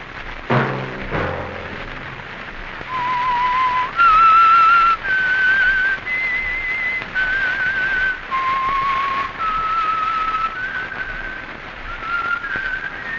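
Someone whistles a slow, clear melody of held notes, the theme of a 1952 radio drama, each note rising or falling slightly, up close over a faint background hiss.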